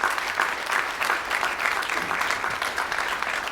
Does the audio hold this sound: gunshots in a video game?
no